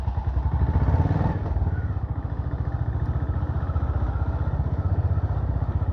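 A Honda CB350RS motorcycle engine runs steadily and close by on a cold morning, giving a continuous pulsing thump throughout with a brief rise in revs near the start.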